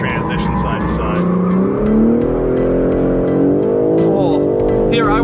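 A BMW M3 with carbon ceramic brakes on a performance driving course swings through quick side-to-side transitions, engine pulling steadily while tires squeal in rising and falling streaks; people talk over it from inside the car.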